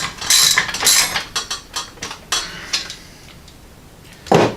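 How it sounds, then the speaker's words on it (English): Bolts being fitted while assembling a Badland 9000 ZXR winch: a close cluster of metallic clinks, rattles and ratchet-like clicks, then a pause and one last sharp clank, with no voice. "I got to put 2 more bolts in down here."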